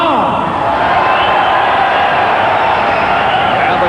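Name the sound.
boxing crowd cheering for boxer Michael Carbajal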